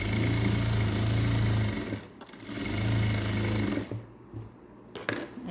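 Sewing machine stitching blouse lining, a close, loud steady whirring run that pauses briefly and starts again, then stops with a few soft clicks and handling sounds.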